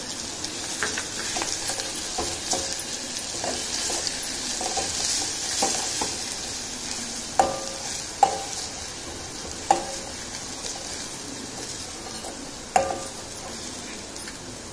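Garlic paste sizzling with cooked onions in a pan for a Maharashtrian peanut bhaji, a steady fry hiss close by, broken by a few sharp clinks of a spoon stirring against the pan.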